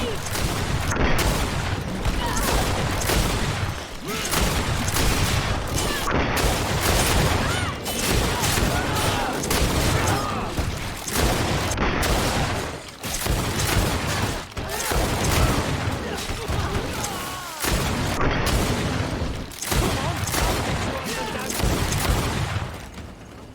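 Repeated booming grenade blasts and bursts of gunfire in the video game GreedFall, loud and dense, coming in rapid clusters with brief gaps between them, with voices shouting in the fighting.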